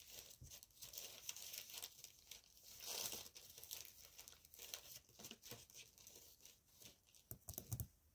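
Backing paper for a handmade woodland journal is handled and crinkled close by, a quiet run of rustles, crackles and crisp tearing-like scrapes in uneven bursts.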